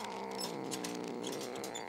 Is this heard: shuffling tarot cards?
no